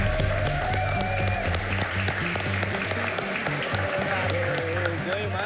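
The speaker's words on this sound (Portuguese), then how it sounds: "Eu quero uma salva de palmas pra nossa lenda, Minotauro." A crowd at a UFC countdown event applauds a fighting legend, giving a sustained, dense wash of clapping that runs the whole stretch over music and voices.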